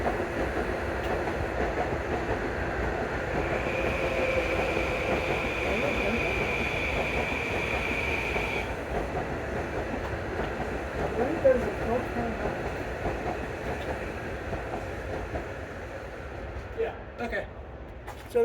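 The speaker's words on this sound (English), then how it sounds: "don't mind the train in the background" A train passes in the distance with a steady, drawn-out rumble and rail clatter that fades toward the end, while a person talks over it throughout.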